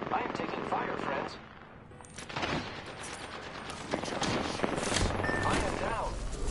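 Bursts of gunfire in the video game Apex rattle amid a busy, layered game mix, with a quieter lull before the shooting picks up again.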